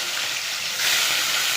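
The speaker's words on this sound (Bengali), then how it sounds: "মাছটা সুন্দর করে লাল লাল করে ভেজে নেব" Fish coated with salt and turmeric frying in hot oil, a steady hissing sizzle, close and even, growing a little louder partway through.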